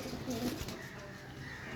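Golden pigeons kept in pairs coo in a low throaty burst at close range, followed by a brief flutter over steady background noise.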